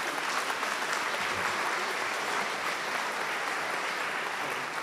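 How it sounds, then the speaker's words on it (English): An audience at a school district highest-honors ceremony applauds outstanding students, with steady, dense clapping from a large crowd filling the hall throughout. "let's give a round of applause for these outstanding students"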